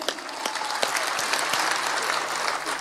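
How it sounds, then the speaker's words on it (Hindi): An audience at a kavi sammelan poetry event in Raipur breaks into loud, sustained applause, a thick crowd of hands clapping continuously with a few sharper individual claps standing out, and no voices over it. "मैं चाहता हूं कि एक बार आपके लिए जोरदार तालियां बज जाएं।"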